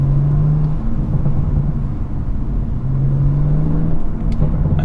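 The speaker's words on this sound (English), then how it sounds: "every single time you lift off, you can hear those crackles coming through so predictably" A 2019 400bhp BMW M140i fitted with an AC Schnitzer ACS1 exhaust, lifting off the throttle around 3,000 rpm, its steady engine drone breaking into faint crackles and pops on the overrun.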